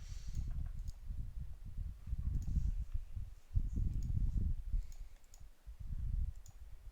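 A computer mouse gives faint, scattered clicks over several seconds, mixed with soft low thumps and rumble from handling at a desk.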